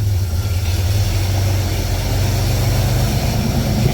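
A Pontiac Fiero engine idles with its AC compressor short cycling from low refrigerant, a loud, steady, close low drone with a constant hum and no talking.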